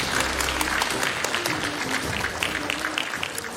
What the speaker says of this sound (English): a big round of applause for our presidential candidates